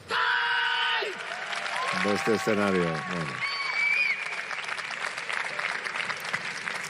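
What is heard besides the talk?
Japanese karate team applauding in the stands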